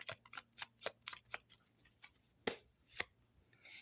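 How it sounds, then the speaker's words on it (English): Tarot cards being shuffled and thrown during a reading, a run of quick papery riffles and snaps, close but fairly quiet, with a few sharper slaps near the end and no talk. "let's throw some more cards and see where we're going"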